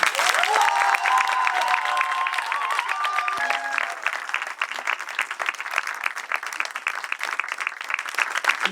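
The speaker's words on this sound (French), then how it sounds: "Je vous demande de faire un gros tonnerre d'applaudissements à Xander Michel." An audience at a cinema screening event applauds loudly and steadily for the full stretch, a dense wash of clapping with some crowd noise and tonal whistles or cheers early on, tapering slightly toward the end.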